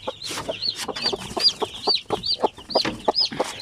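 Basilan native chickens with a brood of young chicks cluck and peep in rapid, overlapping calls: high chirping notes repeat close by over soft low clucks, with no talking.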